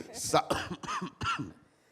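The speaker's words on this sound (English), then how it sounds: "I'm so sorry if I keep coughing in the mic." A few short coughs and throat-clearing sounds close to the mic at a press conference, in quick bursts over about a second and a half, with no words spoken.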